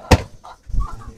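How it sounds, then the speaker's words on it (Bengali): A farm-raised chicken gives short clucks near a pigeon house, one sharp note followed by a softer low burble, close and brief, with no talk. "এই এটা তো ফার্মি মুরগি"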